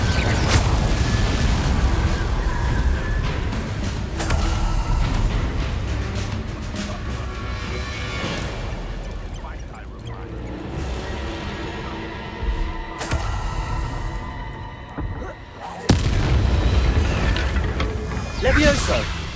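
Confringo blasting spells from Hogwarts Legacy burst repeatedly as loud booming explosions, with sharp broadband blasts around the fourth, thirteenth and sixteenth seconds over a dense rumbling game soundscape.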